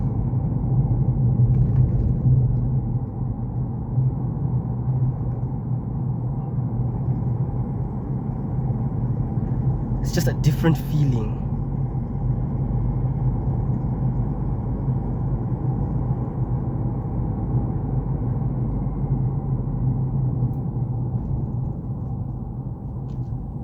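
Inside a 2012 Isuzu KB300 LX D-Teq diesel pickup truck on the road, a steady low engine and road drone fills the cab while someone speaks briefly.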